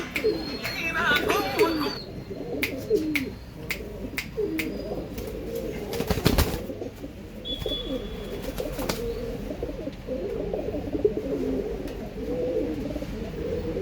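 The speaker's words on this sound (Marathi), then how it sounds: "पारव्या कलरमध्ये प्युअर आंध्रा लाईनचं कबूतर आहे मित्रांनो" Pure Andhra line pigeons kept in a loft coo in soft repeated rumbles close by, with a few sharp clicks and occasional wing or cage noises, while someone talks faintly over them.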